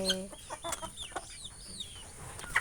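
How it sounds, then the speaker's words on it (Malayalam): Several backyard hens cluck close by in a home yard in the morning, giving a quick run of sharp, overlapping calls and chatter, with one louder squawk near the end. "അപ്പം ഇതൊക്കെയാണ് ഞങ്ങളുടെ വീട്ടിലെ കോഴികൾ."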